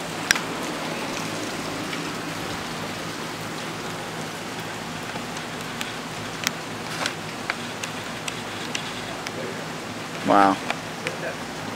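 Rain falls steadily on the surroundings during a Disney trip, a constant close patter that fills the whole clip, with a short exclamation from a voice near the end.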